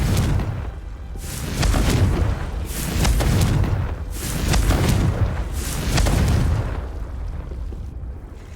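The Confringo fire spell is cast again and again in Hogwarts Legacy, setting off a series of four or five loud, deep booming explosions. Each blast swells and rolls away at an even pace, with no talk over them.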